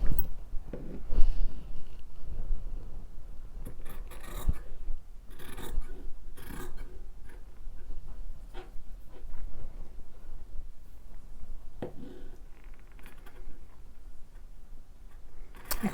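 Scissors cut through the fabric of a t-shirt sleeve in short irregular snips and rasping slices, close and moderately loud, with no speech.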